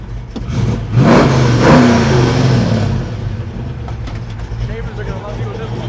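A classic Ford Mustang engine revs hard near the start, then settles into a steady idling rumble.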